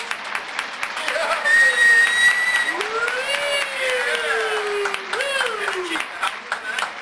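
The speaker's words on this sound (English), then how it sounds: "Let's have a big hand for these people." Studio audience applauding the hosts of a comedy news show, a steady wash of clapping lasting several seconds, with whistle-like tones and a voice talking over it.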